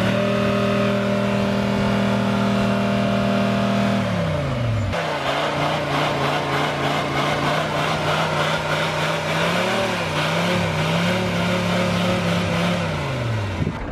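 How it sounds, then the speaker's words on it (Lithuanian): A car engine running on used frying oil starts hard. A steady mechanical drone is followed by a shift to rough, throbbing engine running with shifting revs, loud and close throughout. "Realiai reikia ilgai sukti starterį, dar nežinau kur bėda"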